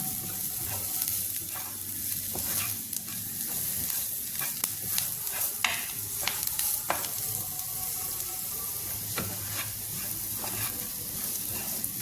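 Soya meat with chilli powder fries in hot oil with a constant bright sizzle, broken by sharp clicks and scrapes from stirring.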